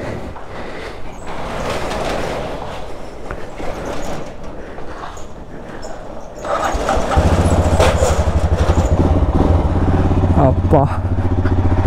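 A motorcycle, set off on an evening ride to Tiptur, rumbles steadily near the microphone, growing louder and more insistent partway through as a low engine drone takes over, with someone talking over it.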